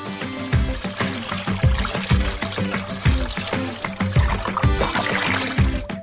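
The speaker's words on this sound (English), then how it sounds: "Add more water to cover all the meat." Water pours over pieces of ostrich meat sitting in a marinade, a trickling, splashing flow that is accompanied by repeated rhythmic thumps and background music.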